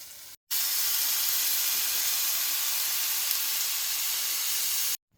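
Potatoes frying in a pan give a loud, steady sizzling hiss that cuts in after a brief gap and runs evenly until stopping abruptly near the end.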